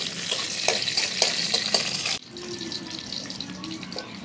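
Onion and garlic frying in oil, a bright sizzle with scraping stirs for the first half before it drops abruptly to a quieter, gentler sizzle, with no voice.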